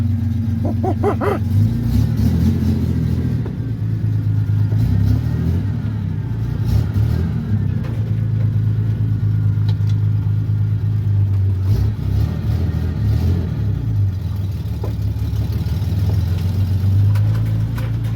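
An enduro race car engine runs rich with the smog pump removed, a loud, close, steady rumbling idle with slight revving swells that continue throughout.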